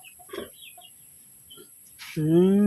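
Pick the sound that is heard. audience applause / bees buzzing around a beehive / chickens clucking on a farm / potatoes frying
chickens clucking on a farm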